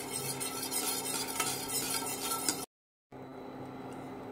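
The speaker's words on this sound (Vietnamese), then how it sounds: "Mình khuấy cho chín bột." Rice flour batter stirred in a pot over low heat, with a close, continuous scraping and light clinking of a utensil against the pot, broken by a short gap of silence near the end.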